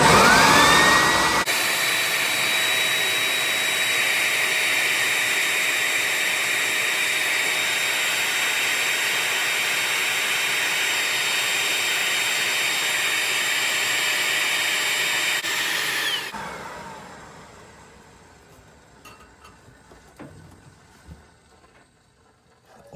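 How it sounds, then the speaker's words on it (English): A wet-dry vacuum cleaner sucks draining water out of a Whirlpool washing machine with a drain fault, making a loud, steady whining roar for about fifteen seconds before it shuts off and winds down, leaving faint handling noises. "I'm going to vacuum it at the same time when it's draining."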